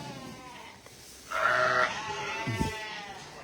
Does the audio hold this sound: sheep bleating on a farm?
yes